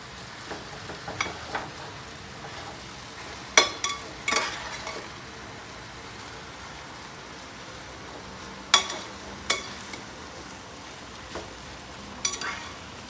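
Pancit bihon rice noodles stirred and sautéed in a pan, producing a quiet continuous sizzle broken by scattered scraping and clattering bursts as utensils toss the noodles.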